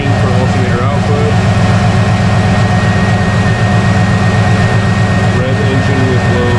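A car engine with the fans and other electrical loads switched off runs steadily and loudly close by, its deep, even drone barely shifting as it is revved during an alternator output check.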